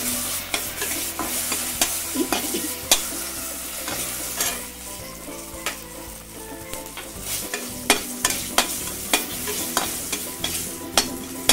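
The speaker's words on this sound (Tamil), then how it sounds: "அப்புறம் காஞ்ச மிளகாய் போடுறோம்." Dried red chillies frying in a pan give a constant crackling sizzle, broken by regular sharp clacks of a utensil stirring against the pan, close and clear with no voices.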